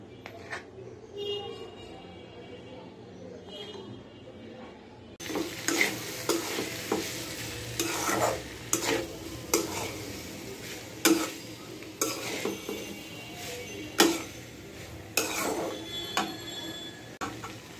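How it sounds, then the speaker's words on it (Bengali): Boiled potato pieces cooking with spices in a pan: a soft sizzle, then steady frying with repeated scraping and stirring clinks, close by. "সব ধরনের মশলা দিয়ে আলুটা রান্না করে নিচ্ছি।"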